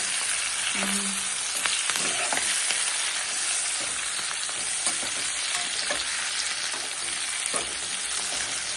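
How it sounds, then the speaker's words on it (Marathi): Chillies frying in oil in a pan in a home kitchen, a steady loud crackling sizzle with occasional stirring scrapes and pops, close up and with no talking. "आणि आता ती मिरची सगळं टाकून देणार आहे ह्याच्यामध्ये"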